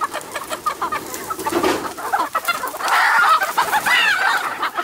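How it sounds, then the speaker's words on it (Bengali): Native desi chickens and red roosters cluck and squawk in quick, overlapping bursts at close range outdoors, some calls rising in pitch, with a busy, irregular rhythm. "সব দেশি মুরগি নিয়ে আসছি"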